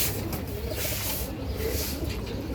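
Pigeons beside their cage coo softly, their low murmurs half buried in a steady outdoor background hiss.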